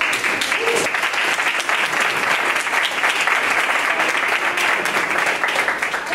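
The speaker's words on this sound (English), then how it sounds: "Let's give a round of applause." Audience at a 2009 health-plan event breaks into applause, a loud, continuous, dense patter of many hands clapping that holds steady for about six seconds without fading.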